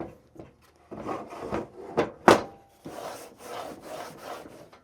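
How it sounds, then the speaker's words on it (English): Wood frame pieces for a picture frame are cut to length on a miter sled, giving a series of short rasping saw strokes with bumps and clatter between cuts, plus one loud sharp burst near the middle. "bust out the picture frame miter sled and start cutting these pieces to length"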